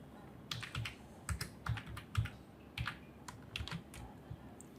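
Keys clack on a computer keyboard while Python code is typed, a fairly quiet, uneven run of separate taps in small bursts with short pauses, no voices.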